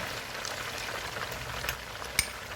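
Ginger garlic paste frying in a pot with whole black pepper and cinnamon for chicken white biryani, a soft, continuous bubbling sizzle with faint crackles and one small sharp tap near the end.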